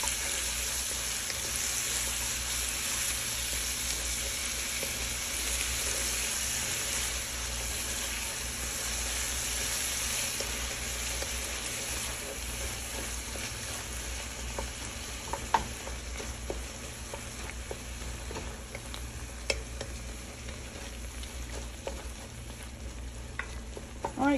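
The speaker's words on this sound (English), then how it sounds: "Okay, just stir that up with the butter." Butter sizzles in a pot as a broccoli cheddar soup base is stirred, a continuous frying hiss with occasional scraping clicks of the spoon over about twenty-four seconds.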